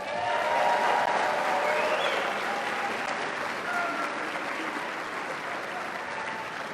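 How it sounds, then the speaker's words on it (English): Large Republican governor's debate audience in Texas breaking into a big, sustained round of applause, dense and loud throughout, easing slightly toward the end. "show it by giving yourselves a big round of applause."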